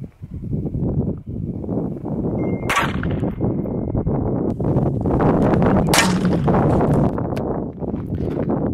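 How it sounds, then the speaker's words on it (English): A Walther P22 Tactical pistol fires CCI Mini-Mag 35-grain rounds at body armor on a target torso, with two sharp, close shots ringing out over a steady outdoor background noise. "I'm shooting some 35 grain CCI mini mags"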